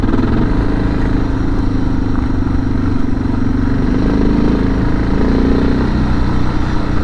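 A motorcycle engine running steadily nearby, a continuous low rumble with a mechanical clatter that holds an even level throughout, with no talk.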